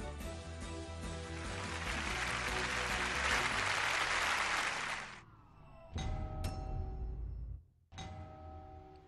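Studio audience applause on a Chinese science TV show, a loud sustained burst that fades out after about five seconds, followed by two short chime-like ringing tones.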